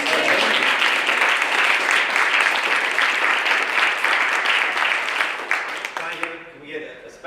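A crowd at a lecture event claps loudly for the presenters, dense and sustained, then tapering off into scattered claps and voices.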